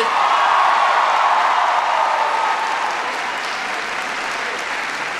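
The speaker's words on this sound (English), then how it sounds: "Give them a bigger round of applause than that." Crowd at a University of Michigan speech in Ann Arbor applauds and cheers for the football team, a loud, dense wash of clapping with whoops that stays strong and slowly eases.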